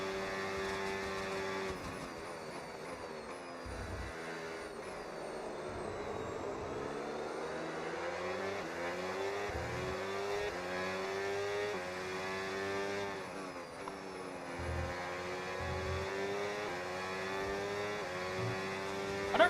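F1 race cars in F1 25 overtaking, with several engine notes rising and falling in pitch in a continuous high-revving whine as cars pass one another, steady and fairly quiet.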